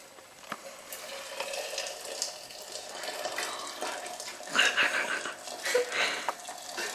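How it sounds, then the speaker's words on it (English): Boiling water poured into a teapot for brewing tea, a moderate splashing pour running for several seconds, rising a little near the end. "Step four, pour in boiling water immediately."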